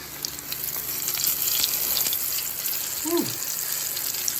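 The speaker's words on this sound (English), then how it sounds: "So we're gonna fry this for about 6 minutes, 3 minutes on each side." Three pieces of fish frying in hot oil over medium heat, a steady close sizzle with crackling pops and a brief clink partway through, with no talk over it.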